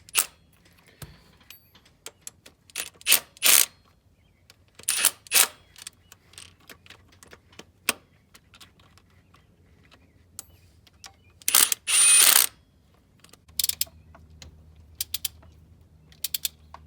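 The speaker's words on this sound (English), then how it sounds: "Go ahead and just kind of run them in a little bit with the gun." Impact gun running in water pump bolts on a 6.0 engine: short, sharp bursts of rattling hammering, several separate runs of a second or so each, close and loud against a quiet background.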